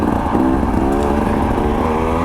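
Dirt bike engine running steadily up close, a loud continuous buzzing drone with even harmonic tone and no clear revving changes, heard alone without speech.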